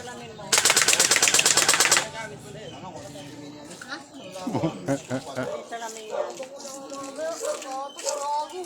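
A toy gel blaster fires a rapid burst of shots for about a second and a half, followed by excited voices and chatter.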